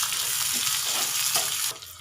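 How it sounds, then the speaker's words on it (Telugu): Whole spices and onion fry in hot oil in a pan as tempering for village-style gongura chutney, a close, continuous crackling sizzle that drops off sharply near the end. "చూడండి పోపు బాగా వేగింది"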